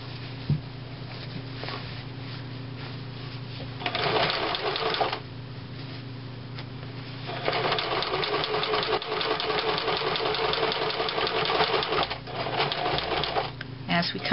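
Sewing machine stitching piping onto a cushion cover, running in bursts of rapid mechanical chatter separated by pauses, close up, with a person talking between and over the runs.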